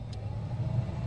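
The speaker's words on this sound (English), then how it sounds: "Much quieter blower motor." A 2007 Jeep Wrangler blower motor running on its low setting, a quiet, steady hum with faint airflow and no voices.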